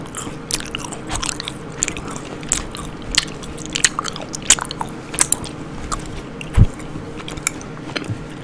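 Close-miked ASMR biting and chewing of watermelon, a wet, crunchy run of irregular bites and squishy chews repeating for several seconds at close range, alone with no talking.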